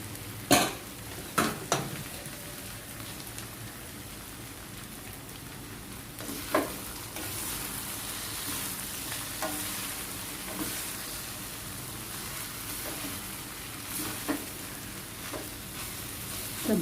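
Boiled rice and vegetables are stir-fried in a pan for vegetable fried rice, a soft continuous sizzle broken by occasional clinks and scrapes of a spatula against the pan.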